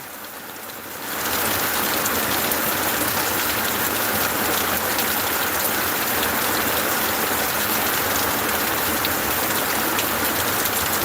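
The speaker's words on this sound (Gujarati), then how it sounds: "એટલો બધો વહરાત પડી રહ્યો છે" Heavy monsoon rain pours down steadily in the Mahelav area. After a quieter first second, the dense hiss of rain on surfaces and water comes in loud and continuous, with no voices.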